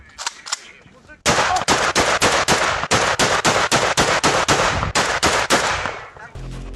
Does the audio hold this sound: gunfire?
yes